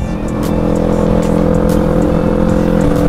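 Steady motorcycle engine drone on a morning ride in La Union, close and loud, with a continuous low hum and faint whooshing wind throughout.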